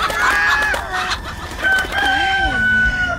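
A chicken crows and clucks in a lively comedy movie scene, with bright rising and falling calls repeated over a busy background, loud and close, with a hint of voices around it.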